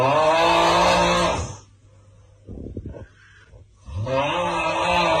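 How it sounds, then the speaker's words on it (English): A man's loud, raspy snoring groan used as the Aughhh meme sound effect, two long drawn-out snore blasts separated by a quieter gap with faint rustling. "this is a sound effect of a guy snoring"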